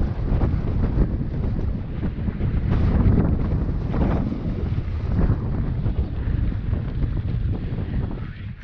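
Heavy wind buffets the microphone in continuous low roaring gusts, loud and rumbling throughout.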